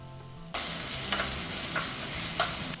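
Garlic, onion, ginger and green chili hit hot oil with mustard seeds and cumin, and a sudden loud sizzle bursts up and holds steady. A few stirring scrapes cut through before the hiss abruptly stops.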